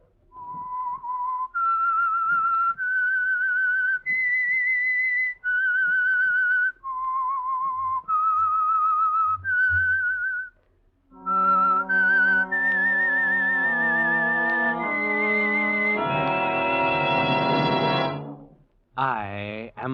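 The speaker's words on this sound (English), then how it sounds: "That whistle is your signal for the Signal Oil Program" The whistled signal tune of The Whistler radio program, a clear melodic whistle of sustained rising and falling notes, then a fuller orchestral continuation of the theme, loud and alone with no talk.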